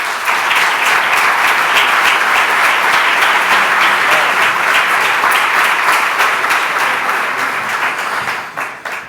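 Loud, sustained applause from a large audience welcoming a regional government president onto a stage at a public event, dense clapping throughout that tapers off at the very end.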